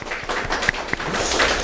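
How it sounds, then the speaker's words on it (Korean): A church congregation claps to welcome a visiting member during a service, producing a short burst of dense, fairly loud applause that continues steadily throughout. "박수 한번."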